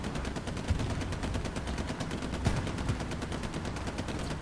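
Tank machine gun fire in Hell Let Loose, a rapid, steady stream of automatic shots rattling without pause, with a few heavier thumps mixed in and no voices over it.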